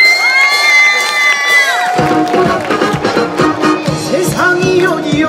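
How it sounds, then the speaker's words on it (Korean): An outdoor crowd at a festival performance by an Air Force military band cheers loudly, with shrill whoops and children's high shouts, then the sound turns into a busy mix of clapping and voices as music starts up. "힘찬 박수 부탁드립니다."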